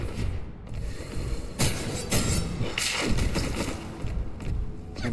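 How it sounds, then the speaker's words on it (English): Explosions in a video game zone, a run of loud thuds and crashing bursts in quick succession with mechanical clatter between them, no talking. "And all the explosions in this zone."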